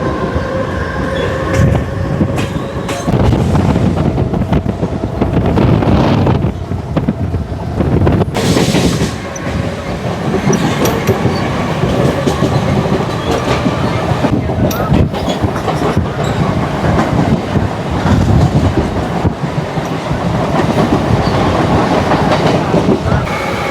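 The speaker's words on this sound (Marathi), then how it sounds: "तर आता आपली लोकल निघते आहे नेरूळ रेल्वे स्टेशनवरून सुद्धा" A Mumbai local train on the Panvel–Thane Trans-Harbour line pulls out of Nerul station, a loud continuous onboard rumble with rhythmic wheel clatter and rushing wind, voices faintly mixed in.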